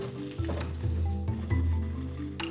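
Pork buns pan-frying in a lidded pan just after water is poured in, hissing with loud, intense sizzling that swells and fades in a few surges, with no voices.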